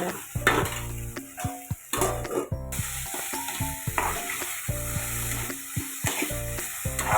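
Okra stir-fried in a pan over high heat, a continuous sizzle broken by frequent scraping stirs and metallic clinks of the spatula against the pan.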